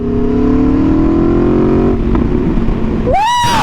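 An Aprilia Tuono V4 motorcycle fitted with a new aftermarket exhaust holds a loud, steady rev that climbs and then drops off, followed by a brief rising whine at the end.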